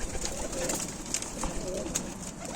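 Ukrainian high-flying pigeons coo softly and steadily in low, rounded murmurs over a busy, noisy outdoor background.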